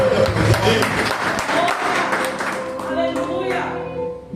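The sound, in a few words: congregation applauding in church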